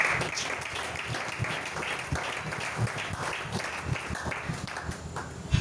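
A church congregation applauds steadily throughout, a dense wash of many hands clapping at even loudness with no break, like a long ovation during a worship service.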